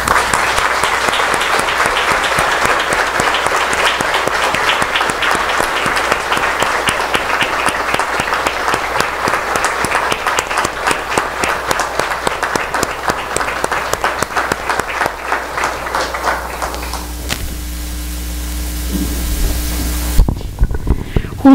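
Congregation applauding during a Catholic mass, a long sustained wash of many hands clapping that carries on steadily before thinning out, leaving a lingering low hum and a few last claps.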